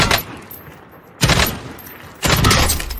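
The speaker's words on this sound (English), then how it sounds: "Listen for the sound of the armor." Two loud bursts of automatic gunfire from Call of Duty Warzone, each about a second long and separated by quiet gaps, as rounds hit an armored target and break its armor.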